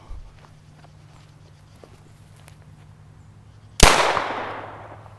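A single sharp report from a Ruger 22/45 Lite pistol firing .22 long rifle, coming after a stretch of near silence and then ringing off into a long decaying echo outdoors.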